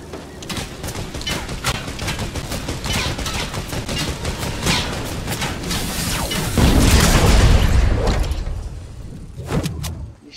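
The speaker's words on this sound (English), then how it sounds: "Don't know where I'm shooting at." Gunfire in the Fortnite video game, rapid bursts of shots and heavy booms crowding together, loud and close, swelling into a dense rumbling blast near the end before a few last cracks.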